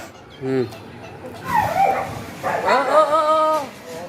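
A dog yelps and whimpers in short, excited bursts close by, with a person speaking over and between the sounds.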